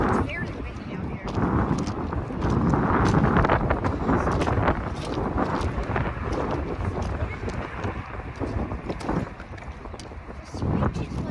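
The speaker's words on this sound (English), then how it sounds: "It's very windy out here." Strong wind blows outdoors beside railroad tracks, buffeting the microphone as a continuous loud roar, with voices talking over it.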